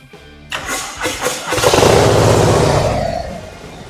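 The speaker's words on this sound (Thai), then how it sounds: "เดี๋ยวฟังเสียงเครื่องยนต์กันหน่อยนะ" A 2022 Harley-Davidson FXLRS Low Rider S 117 motorcycle with about 3,600 km cranks, catches with a rising roar, then settles into a steady, close idle.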